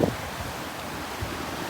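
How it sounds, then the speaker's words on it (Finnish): Stormy wind and surf on a coast of the Azores, a steady broadband roar of gusting air and breaking waves with no voices, the wind buffeting the microphone in a few brief thumps. "Täällä on myrskyisä sää,"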